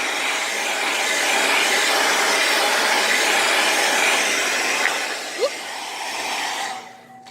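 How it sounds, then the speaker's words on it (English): A hair dryer blows with a steady broadband whoosh, loud and close, running continuously before winding down at the end. "when I hit it with the blow dryer"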